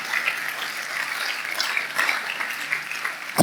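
Applause from a church congregation, a loose crackle of many hands clapping with uneven sharp claps, moderately loud and steady.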